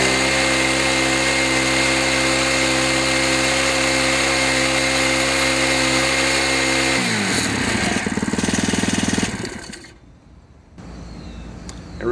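An RB28 rail drill fitted with a carbide bit runs at a steady, loud motorized whine with strong harmonic hum, then shifts into a rougher grinding bite as the bit cuts into the rail before winding down.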